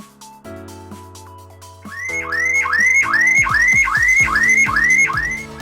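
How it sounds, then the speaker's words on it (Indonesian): A car alarm blares continuously, cycling through loud repeating whistle-like rising and falling tones, close and alone with no talk. "kok alarm saya bunyi terus"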